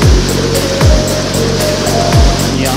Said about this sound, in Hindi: शोर आप चेक कर सकते हैं पानी का, बेतहाशा शोर है जी।